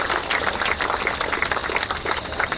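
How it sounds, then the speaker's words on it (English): Dense, steady applause from an audience at a badminton tournament prize distribution in Bandra, a continuous wash of many hands clapping with no pauses. "Let us all give a big applause to them for this."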